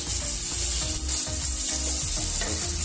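Tomatoes hit a pan of well-fried onions, setting off a loud, dense sizzle with stirring scrapes and rhythmic clatter close by, no talking.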